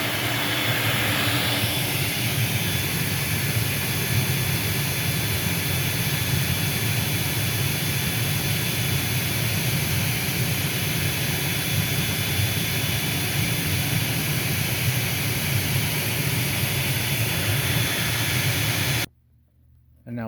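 A Vax 221 vacuum cleaner runs steadily during an airflow test, a loud continuous broadband roar with a faint whine that holds unchanged for about nineteen seconds before cutting off abruptly near the end.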